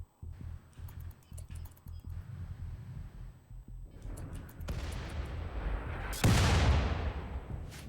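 Mortar fire in a video game: a string of dull low thumps under constant game noise, building to one loud, broad blast near the end that fades slowly.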